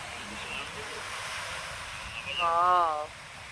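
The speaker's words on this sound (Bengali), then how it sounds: "সামনে ঢেউ দেখো।" Steady surf roars continuously as ocean waves wash in at Pattaya, Thailand, with wind noise over it and a brief whistling tone near the end.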